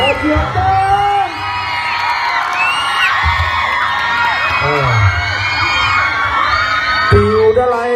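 An audience at a singing contest cheering, whooping and shouting excitedly, a dense crowd roar with high shrill voices that runs throughout at close, loud level.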